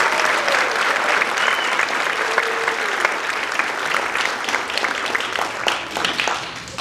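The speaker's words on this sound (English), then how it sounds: "So we can give all the students a round of applause for those." Audience applause at a school band's winter concert, steady and sustained clapping from a full hall throughout, with a light crowd murmur underneath.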